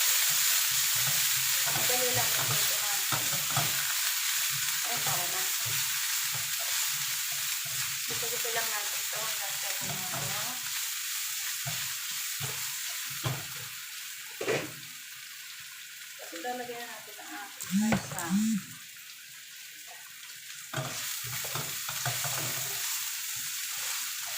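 Pomfret fish frying in a pan, a continuous bright sizzle with occasional stirring and scraping, close up, while a voice talks intermittently over it.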